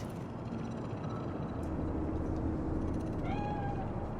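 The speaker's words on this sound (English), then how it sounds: "That cat?" A cat meowing in Cyberpunk 2077's Night City, a faint rising meow near the end over a low, steady city rumble.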